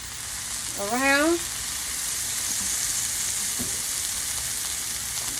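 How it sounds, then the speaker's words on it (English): Tomatoes searing in a pan with a capful of olive oil give a steady, close, even sizzle throughout, and a voice speaks briefly near the start. "going to lay our tomatoes in here for a nice flash sear"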